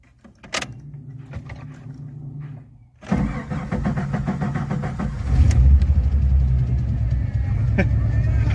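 A Jeep Cherokee XJ engine cranks briefly, then catches and settles into a steady, loud rumble close by, with faint voices before it starts.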